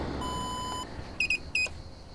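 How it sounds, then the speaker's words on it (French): A PC on a solar-panel inverter setup beeping as power is plugged or unplugged: a long tone, then two short, sharp beeps, close and clear over a low background hum. "Le PC bip en fait quand il est branché ou débranché."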